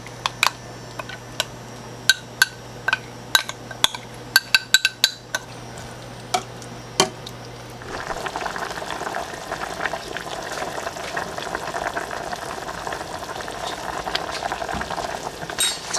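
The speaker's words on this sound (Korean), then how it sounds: "자박하게 끓여주면 됩니다" A pot of sauce made with 360 ml of water and a seasoning mix simmers in a kitchen, starting with scattered sharp clinks and taps, then settling into a steady close bubbling and sizzling that runs unbroken to the end.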